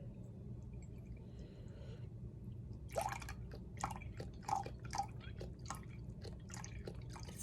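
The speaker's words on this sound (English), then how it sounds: "It's pouring very slowly." Reduced-sodium broth pours slowly into a measuring cup, giving faint intermittent glugs and drips over a low steady background hum.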